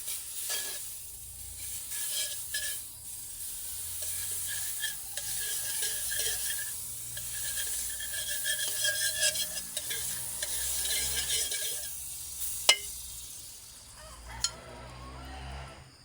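Star Margarine sizzles and crackles steadily in a hot pan while hot cakes cook, a continuous close frying hiss with occasional light clinks of a utensil and no talking.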